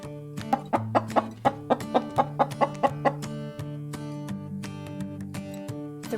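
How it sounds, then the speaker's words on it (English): Chickens clucking in a short run of sharp, evenly spaced calls over a steady musical backing, with a rooster-like tone, loud and close, then fading into the music. "Chickens."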